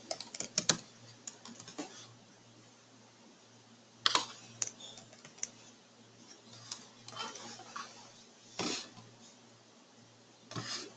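Java code typed on a computer keyboard, scattered clusters of crisp key clicks and taps with pauses between them, close and fairly quiet over a faint hum.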